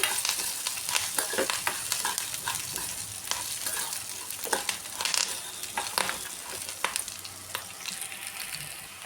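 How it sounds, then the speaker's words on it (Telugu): Four or five large garlic cloves, chopped small, fry in a pan with a continuous close sizzle, broken by frequent stirring scrapes. "వాటిని ఇలా చిన్నగా చేసేసుకొని వీటిని కూడా కాసేపు ఫ్రై చేసేసుకోవాలి"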